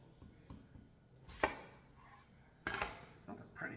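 A knife chops through an onion on a cutting board in a few separate, fairly faint thuds spaced irregularly, with a louder knock near the middle and another toward the end, no talking.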